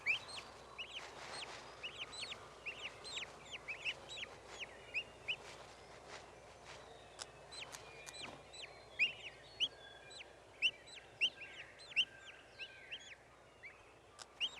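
A wild turkey hen calls to her poults with repeated clucks and high chirping peeps, scattered throughout and growing sharper toward the end over a quiet outdoor background.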